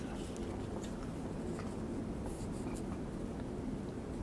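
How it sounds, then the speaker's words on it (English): Steady soft scratching of a pen or pencil drawing a straight line across paper for craft storage containers, close and continuous with faint room noise. "we can actually just draw a straight line down the middle"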